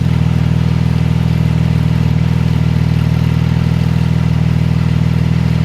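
A tuned 1000 hp Porsche 911 Turbo S with a Klein exhaust idles loud and close in a snowy setting, holding a steady, even low drone throughout with no voices.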